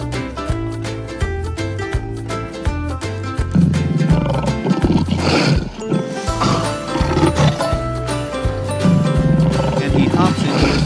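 A lion, the king of the jungle in a toy animal diorama, roars in a couple of rough, noisy bursts layered over loud, rhythmic background music.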